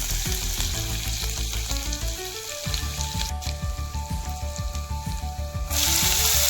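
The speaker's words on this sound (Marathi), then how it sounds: "कढईमध्ये तेल गरम केलेलं आहे. त्याच्यामध्ये आपण चवीनुसार अर्धा चमचा जिरे, मोहरी, लसूण, कुटलेला लसूण" Cumin, mustard seeds and crushed garlic sizzle loudly in hot oil in a kadai for a rustic spring onion greens dish, a steady close crackle and spatter with rhythmic popping that swells sharply near the end.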